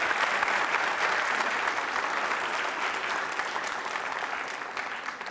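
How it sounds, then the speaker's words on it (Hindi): An audience at a university quiz show applauds, a steady, dense clapping that holds evenly for several seconds and fades slightly toward the end. "इस नवीन जानकारी के लिए तालियां बजा सकते हैं जोरदार तरीके से आप"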